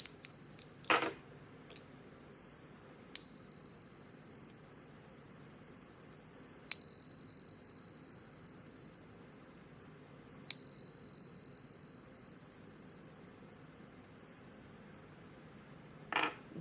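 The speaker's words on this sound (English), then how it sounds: "But first, let's chime." Chimes ring out one at a time at slow, spaced intervals, each bright metallic tone hanging and fading over a quiet low hum, clear and close with no voices.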